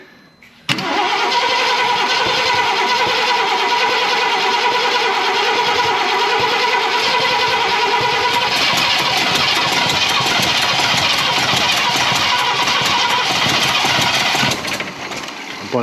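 A 1968 Ford Galaxie V8 with a loose throttle cable and its ignition timing under adjustment cranks, catches and runs loud and steady for about fourteen seconds, its roughness shifting partway through before cutting off, with brief voices.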